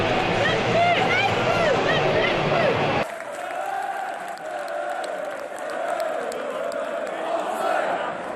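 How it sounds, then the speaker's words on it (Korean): Away football fans roaring in a stadium, a loud crowd wall of cheering that swells, cuts abruptly, then carries on as a broad distant roar with voices over it. "원정 응원단의 높은 함성과 함께"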